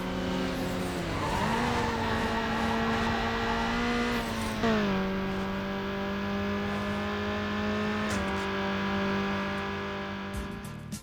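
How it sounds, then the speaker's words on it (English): Racing cars in the Need for Speed video game roar past with rising and falling engine pitch and tire squeals, loud and continuous with no talking. "tires squealing, traffic honking as you pass by, and especially the whooshing of objects as you're speeding past"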